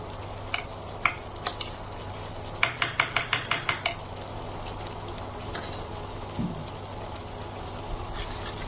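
Spoon clinking and scraping in a pot as a tablespoon of ghee is stirred into quail egg curry, with a quick run of sharp metallic taps mid-way over a steady low cooking hum; no talking.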